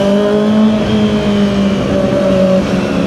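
A 2024 Kawasaki ZX25R SE sport motorcycle rides along a bumpy road, its engine holding a steady, loud drone with sustained tonal whine and no pause.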